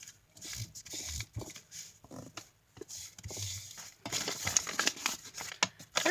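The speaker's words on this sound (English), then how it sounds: "you can fold the edges more, or like give it a little tear." Paper being folded and crinkled by hand to make a vintage-style letter, giving irregular dry rustles and crackles in bursts that grow denser and louder toward the end, close by with no talk.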